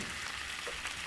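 Thin stream of egg yolk hitting a pan on very low heat while making a potato-stuffed rolled omelette, giving a soft, steady, quiet sizzle throughout.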